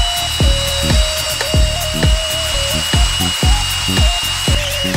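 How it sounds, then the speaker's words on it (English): An Ozito 18V brushless cordless drill bores into steel with a 6mm pilot bit, its motor whine cut by a regular series of sharp clicking bursts that are loud and close, with no talk. "First drilling steel with a 6mm pilot drill."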